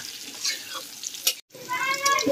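Cauliflower and carrot sizzle and spit while frying together in a wok, a close, steady crackle with a brief gap and scraping movement partway through.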